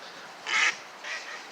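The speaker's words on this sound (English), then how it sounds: "Wonderful geese" A family of geese, parents and young, gives a loud honking call up close, followed by a softer second honk, with quiet outdoor background in between.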